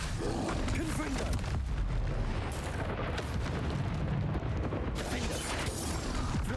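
Confringo blasting spells explode in the video game Hogwarts Legacy, with booming blasts and rumbling impacts layered over dense combat noise. A voice calls out spells over the repeated explosions.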